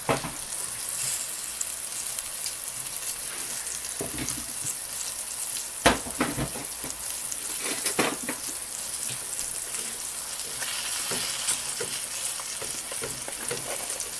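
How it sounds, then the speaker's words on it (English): Steady crackling sizzle of a pan pizza cooking in a pan, close and continuous, with a few sharper pops and scrapes along the way. "You can hear it frying real nicely."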